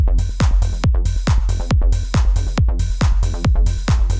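A four-on-the-floor 909 kick pattern for a classic house and trance beat, with a steady run of punchy thumps and a reverb tail washing between each hit, played alone without voices.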